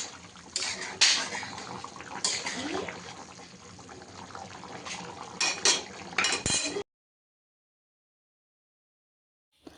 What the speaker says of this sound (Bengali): ভালো মতো নেড়েচেড়ে কড়াইয়ের পাশটা পরিষ্কার করে আমি ঢাকনা দিয়ে ঢেকে দেব।